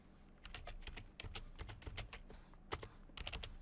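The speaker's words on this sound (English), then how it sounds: "And I can type in clearance." Keystrokes on a computer keyboard come in quick bursts of clicks with short pauses between them, close and fairly quiet, entering a value while working in CAD modeling software.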